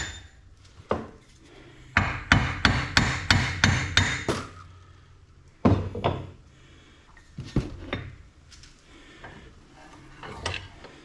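Hammer blows on the rear universal joint of a Jeep Wrangler TJ: a rapid run of about seven sharp metallic strikes, followed by a few more scattered, separate hits, loud and close with no talking.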